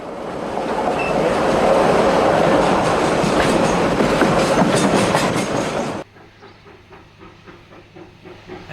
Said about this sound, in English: As the train blasts out of the tunnel at Heathcote, the smoke-belching locomotive is a vivid reminder